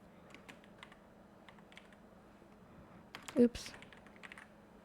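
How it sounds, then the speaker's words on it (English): Computer keyboard typing in sparse light taps across a quiet room, building to a brief cluster of louder clacks near the end, with a short spoken remark. "I'll just type in chromatic and hopefully it'll come up."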